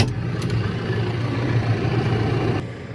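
Farm tractor engine running steadily during bale feeding, a continuous low idling drone held close and even for several seconds before dropping slightly at the end.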